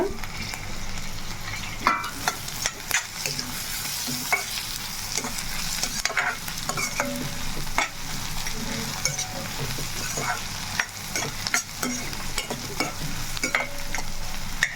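Sliced onions and green chillies fry steadily in a hot pan, a constant close sizzle broken by scraping stirs and light clinks of a spatula, with no talking.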